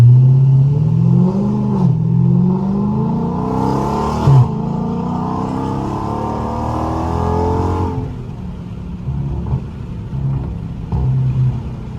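A widebody Dodge Scat Pack with straight pipes roars through a wide-open-throttle pull, its loud engine note climbing through the revs and shifting gears before backing off to a lower rumble.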